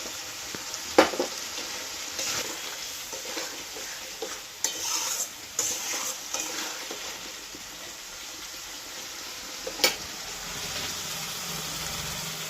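Tomatoes being stirred into a rohu fish curry in a pan, an ongoing sizzle with intermittent scraping and clacking strokes of a spatula spread across the clip, under a faint low hum.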